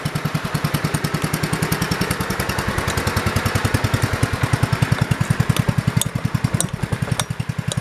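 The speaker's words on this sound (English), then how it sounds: "I'm gonna turn it over, hope the engine starts, and see how it does." The engine of a 1968 110 runs with a steady, rapid, chugging beat, close and fairly loud, for about eight seconds without speech.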